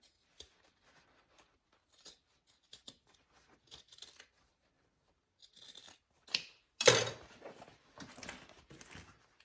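Scissors snipping through fabric while a bag is trimmed for sewing, a few quiet scattered cuts and then a louder burst of rustling and cutting near the end, close and with no talk.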